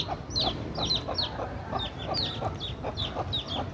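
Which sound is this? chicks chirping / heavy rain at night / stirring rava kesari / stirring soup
chicks chirping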